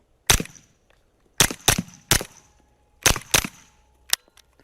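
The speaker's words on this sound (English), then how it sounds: "Since it is blowback operated, there is some significant port pop." KelTec SDP blowback pistol fired at a range, six or so sharp loud reports in quick pairs and singles across a few seconds, each with a brief echoing tail, no talking over them.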